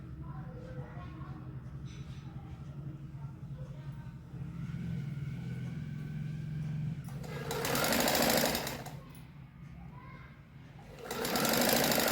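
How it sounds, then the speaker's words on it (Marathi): A sewing machine runs in steady bursts while stitching a straight seam on a kurti, its rapid needle clatter swelling louder in the second half, with a low hum beneath. "हे फिरवून घेतल्यानंतर हे असं सरळ शिवून घ्यायचं"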